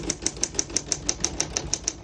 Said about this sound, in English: We're going to keep it on single for now and finish typing.